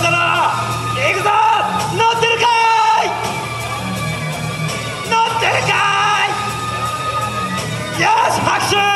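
A festival crowd at a hero show for the character Sky-An yells and cheers in loud bursts, with an amplified announcer's voice and backing music mixed in, the shouts swelling again near the start, middle and end.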